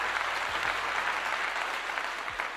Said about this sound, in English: Got to give him a clap on that.